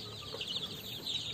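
Rhode Island chickens clucking on a farm, several soft repeated clucks from nearby hens over a steady background hiss.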